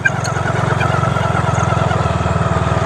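Motorcycle engine running steadily at night in a gold-mining forest area, a continuous close, loud rumbling drone with a fast pulsing beat and no breaks.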